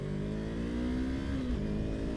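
A 2020 Yamaha MT-03 motorcycle engine accelerates in a low gear, a loud, steady harmonic drone that climbs in pitch and then dips briefly, heard close with no talking.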